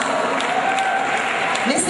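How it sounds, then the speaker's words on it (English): A crowd gives steady applause as a woman walks out to speak at a Founders Day event, the clapping dense and even throughout the brief moment. "let's give her a round of applause as she comes out"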